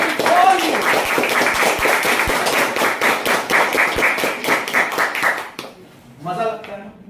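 A room of training-session participants claps together in a fast, dense, loud patter of many hands for several seconds before it stops abruptly; a voice talks afterward.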